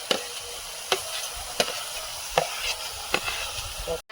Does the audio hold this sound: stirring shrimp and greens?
yes